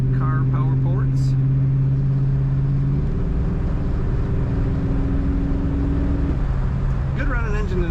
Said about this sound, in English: Good running engine in this car, very smooth.